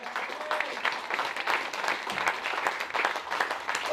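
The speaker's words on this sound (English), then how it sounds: "And a round of applause for our wonderful coaches." Steady applause from an audience at a men's summer cup sports awards ceremony carries on evenly and moderately loud, a dense patter of many hands with no clear voices on top.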